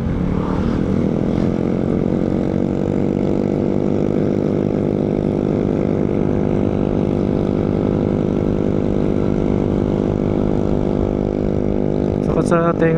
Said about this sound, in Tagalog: Sakat sa tenga ng tambutso.